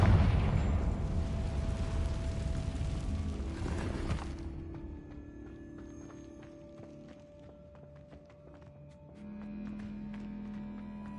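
Confringo fire spell exploding in Hogwarts Legacy, a loud roaring blast that rumbles for a few seconds before falling away into quieter echoing game ambience with faint scattered tones.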